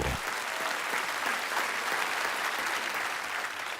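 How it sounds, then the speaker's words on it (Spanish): A church congregation gives a strong round of applause, a dense, even wash of many hands clapping at once for several seconds, moderately distant and without talk. "Démosle un fuerte aplauso"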